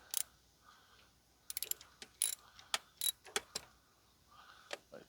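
Metallic clicks and ratcheting taps from loosening nuts on a King Kutter tiller attachment for a Kioti tractor, sounding as a series of sharp, close, irregular clinks separated by short pauses.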